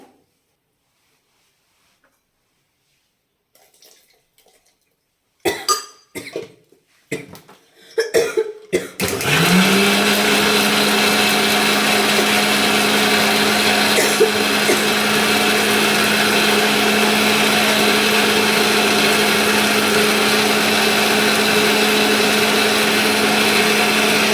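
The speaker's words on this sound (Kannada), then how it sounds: "ಈರುಳ್ಳಿನ ಸೇರಿಸ್ಕೊಂಡು ನೀರಾಕಿ ಗ್ರೈಂಡ್ ಮಾಡ್ಕೊತೀನಿ" After quiet and a few knocks and clatters, a kitchen mixer grinder whirs up to speed and runs loud and steady, grinding red chillies, green chillies and onion with water.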